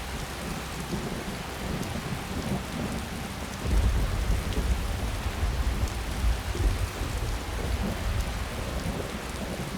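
Heavy rain pours steadily in the video game Ascendance: Threads of Aetherius while a deep roll of thunder swells and rumbles through the middle, with no talking.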